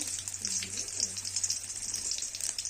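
Green chilli and radhuni spices tempering in hot oil for a fish curry with cauliflower and potato, a steady bright sizzle with faint low background hum and no talk.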